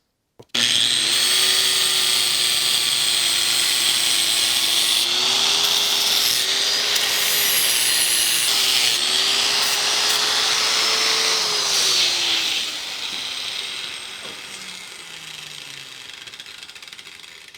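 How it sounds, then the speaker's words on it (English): A flap disc on a grinder cleans up a piece of hand-forged metal, a loud, close, high grinding whine that rises and dips in pitch under load for about twelve seconds before spinning down and fading. "I will go ahead and clean this up with a flat disc."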